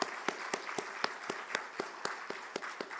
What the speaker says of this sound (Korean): 우리 다 같이 감사의 박수 올려드리겠습니다.